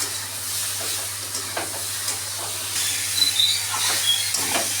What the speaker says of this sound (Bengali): এই ভাজাটা এইরকম ফুটছে হতে থাকুক